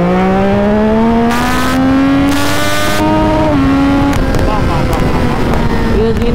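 A car with an automatic gearbox revs hard toward redline, its engine tone climbing steadily and then dropping with each gear shift, loud and close under heavy wind noise with a few faint voices.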